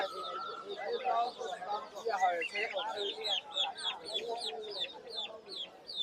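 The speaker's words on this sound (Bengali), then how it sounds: "ফাউমি মুরগিগুলি ফাউমি" Fayoumi chickens cluck and chatter at Fatullah market, a close, busy run of short calls mixed with voices talking nearby.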